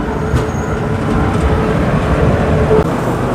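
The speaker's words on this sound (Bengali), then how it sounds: "আর আমাদের ট্রেনও স্পিড নিতে শুরু করে দিয়েছে" Passenger train rolling and gathering speed near Alipurduar Road Junction, heard as a steady, loud rumble of wheels and carriage noise from on board, with no talking.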